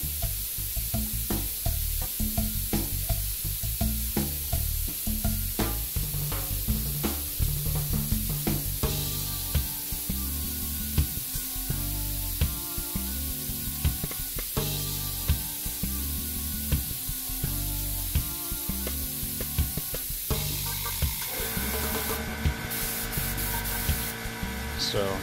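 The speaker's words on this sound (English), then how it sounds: "You can hear the sound of the air coming out, very quiet." Air hisses steadily from an airbrush fed by a Senco PC1010 compressor, a constant quiet rushing with scattered clicks and handling noise, close and continuous throughout.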